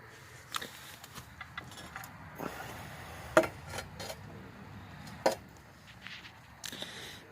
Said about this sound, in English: tap these holes for shock bolts